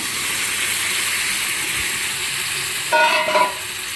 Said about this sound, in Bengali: এরপর এর মধ্যে মটর সেদ্ধ আর আলু সেদ্ধটা ঢেলে দিলাম।